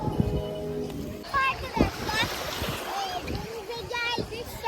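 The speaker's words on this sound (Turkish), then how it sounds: "şimdi Hira yüzüyor" A young girl swims in clear water, wearing flippers and goggles, with repeated splashing and sloshing that stays close and fairly loud, while an adult voice talks over it.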